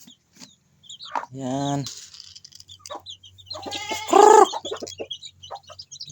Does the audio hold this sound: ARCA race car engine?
no